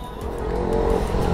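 Loud, steady close-range engine roar with a rising tyre squeal from a Kawasaki Z900 motorcycle rolling stunt on a road, sustained without a break and no talking.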